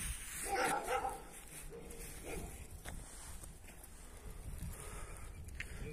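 A Kangal-type Turkish guard dog barks a few times at moderate distance amid outdoor background noise, with some scuffling and movement around it.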